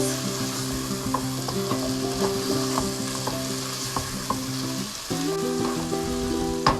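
Meat fries in a pan with garam masala for goshth pilau. A constant close sizzle carries throughout, with intermittent clinks and scrapes of a utensil against the pan and a low steady hum beneath.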